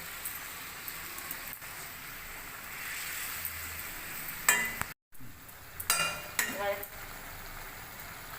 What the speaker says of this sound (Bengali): মশলার সাথে ভেজে রাখা আলুটা দিয়ে দেবো